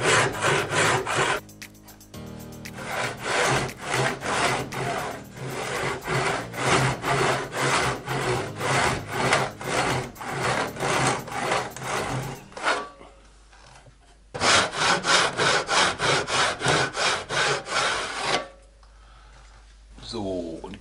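Hand saw cutting wood for a folding Roubo-style bookstand, steady rhythmic back-and-forth strokes close by, with two brief pauses before sawing resumes.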